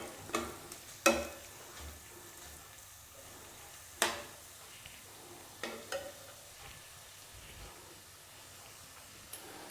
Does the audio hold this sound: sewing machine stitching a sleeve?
no